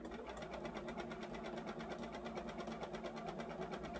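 A sewing machine stitches heavy fabric for a Christmas tree skirt, its rapid, steady mechanical rattle running close and continuous throughout.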